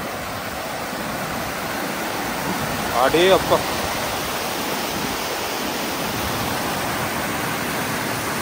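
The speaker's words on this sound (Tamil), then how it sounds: "தண்ணி இங்கே வடிஞ்சு ஓடுது" Water runs down a channel in the Nuwara Eliya valley in Sri Lanka, a constant broadband rush close by, with a man's brief exclamation briefly rising above it midway.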